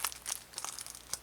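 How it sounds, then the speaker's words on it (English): Plastic wrapping peeled off a retro video game case makes a quiet, brief crinkling, with a few short crackles close by. "I should probably unwrap this"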